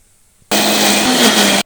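Mixer grinder jar blending fried shrimp with onion, garlic and green chili, a loud steady whirring roar that starts abruptly and runs for about a second before cutting off.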